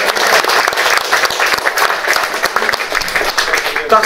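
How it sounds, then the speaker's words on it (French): A room of people at a French association's gathering applauds loudly and continuously, a close, dense patter of clapping with no talk over it. "Et je crois qu'on peut l'applaudir"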